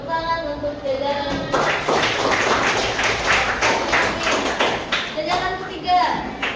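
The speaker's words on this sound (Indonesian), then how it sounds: "Baik, tepuk tangan untuk jajaran" A grade 8 classroom gives a row of students a burst of clapping that lasts a few seconds, sandwiched between a teacher speaking before and after.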